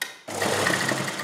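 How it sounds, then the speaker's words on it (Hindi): A sewing machine runs steadily, stitching potli buttons onto a garment neckline, starting abruptly after a brief quiet moment and holding a close, continuous whirring drone to the end. "अब हम इसके बीच बीच में ये पोटली बटन रखते जाएंगे और सिलाई लगाते जाएंगे।"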